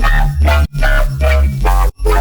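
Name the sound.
riddim bass with sub bass layered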